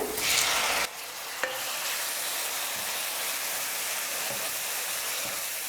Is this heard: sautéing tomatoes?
yes